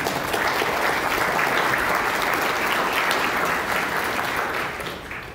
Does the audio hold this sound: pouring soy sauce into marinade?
no